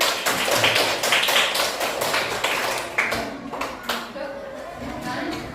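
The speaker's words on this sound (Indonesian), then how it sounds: "Beri tepuk tangan semuanya" Classroom audience clapping after group 4's presentation, a burst of sharp hand claps that thins into scattered taps, with voices talking over it.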